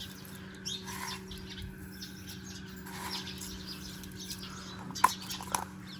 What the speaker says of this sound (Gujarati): પક્ષીઓનો અવાજ સંભળાય છે